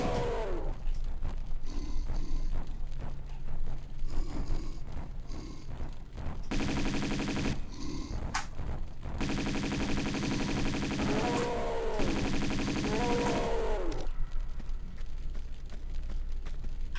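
Gunfire against Yetis in Tomb Raider 2's Kingdom level of the Golden Mask remastered edition, dense bursts of game shots mixed with loud roars and grunts, layered over continuous game music and ambience.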